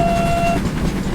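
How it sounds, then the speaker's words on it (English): A GWR 47XX Night Owl steam locomotive sounds its lower-toned secondary brake whistle in a train simulator, a short sustained blast over steady rolling rail noise that cuts off midway. "that is a lower toned whistle, and that is specifically the brake whistle"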